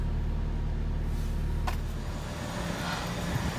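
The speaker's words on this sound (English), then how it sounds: "I started the car, I'm running it for the 15 minutes now." A car with a blown head gasket idles steadily after a sealer treatment, giving a constant low engine rumble with a faint brief whine partway through, recorded nearby.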